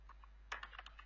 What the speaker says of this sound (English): I'm just typing the function.